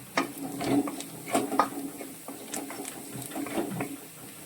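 Onions cooking in a pan for a Kerala-style beef bone curry, giving a soft steady sizzle broken by the scrape and clatter of stirring against the pan, with no talk.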